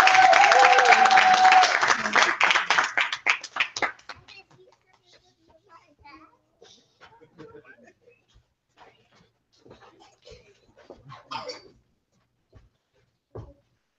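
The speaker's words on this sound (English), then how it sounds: "Let's give a round of applause for our sun rays." Audience applause with children's voices at a Vacation Bible School program, a loud burst of clapping lasting about four seconds before fading into scattered quiet sounds.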